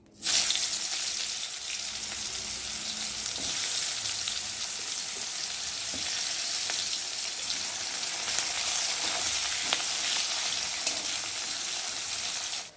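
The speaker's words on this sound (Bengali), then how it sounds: "এখন আমি একে একে পেঁয়াজগুলোকে দিয়ে ভালো করে একটু ভেজে নেব" Onions fry in hot fish oil in a pan, a steady loud sizzle that runs unbroken throughout, with a few faint clicks and scrapes from the pan.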